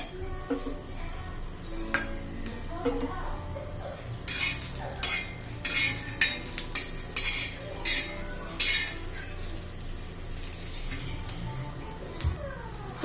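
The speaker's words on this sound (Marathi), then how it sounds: "छान असं डाग लाग पडेपर्यंत आपण मिरच्या भाजून घेणार आहोत" Green chilies roasting in a pan for Kolhapuri thecha, with scattered soft crackles and scraping stir clicks over a low steady background hum; no one talks.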